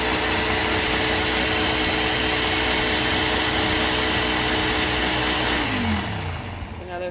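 Electric mixer churning cream into butter runs steadily at close range, its motor whine loud and constant, then fades out near the end as the mixer winds down.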